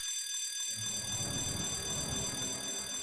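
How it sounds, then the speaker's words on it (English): An alarm sounds in the video game Project Eden, a steady high electronic ringing that holds unbroken throughout, with low rumbling game ambience rising beneath it after the first moment. "Can we shut the alarm up?"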